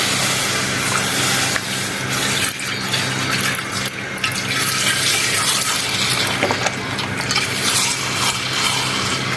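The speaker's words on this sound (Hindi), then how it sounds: "अब हम अपना ये दूध डाल लेते हैं।" Milk pours steadily into a pot while agar agar dessert is being made, a continuous loud close splashing gush of liquid with no break.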